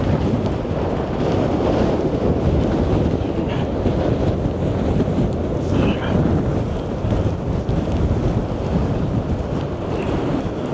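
Strong Storm Darragh wind roars steadily at high tide along Blackpool promenade, a loud, continuous buffeting rush across the microphone with crashing surf beneath, no voices.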